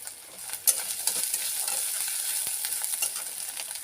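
Spices fry in a pan with a close, crackling sizzle, while a spatula stirs them in quick, uneven scrapes and taps against the metal.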